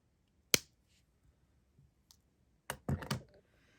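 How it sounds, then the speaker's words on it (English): Jewelry wire snipped off with cutters after crimping a necklace strand: a sharp single click, then a quick cluster of three close clicks, near and alone. "I prefer to snip it off."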